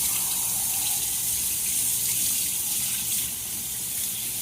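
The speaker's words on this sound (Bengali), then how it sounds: "কাঁচা লঙ্কা ভালো করে ধো।" Green chillies rinsed under a running kitchen tap, a steady close splashing gush of water that continues throughout and eases slightly near the end.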